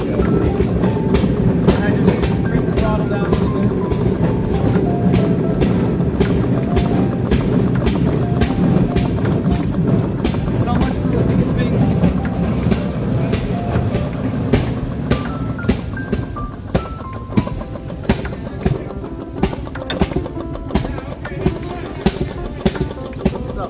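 A small rail speeder rumbles steadily along the track, coasting slowly, with a constant engine drone and a rapid, regular clicking of wheels over rail joints.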